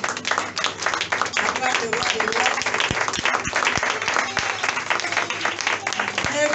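A church congregation at a worship service claps and cheers steadily throughout, with voices mixed into the dense, continuous applause.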